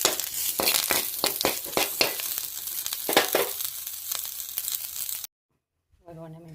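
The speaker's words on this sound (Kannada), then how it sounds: "ಫ್ರೈ ಮಾಡ್ಕೊಳ್ಳಿ. ಇದಕ್ಕೆ ಮೆಣಸಿನಕಾಳು ಹಾಕ್ಕೊಳ್ಳಿ." Peppercorns crackle and sizzle in a hot pan while being stirred, with sharp popping bursts over steady frying, then a brief silence and a short spoken phrase at the end.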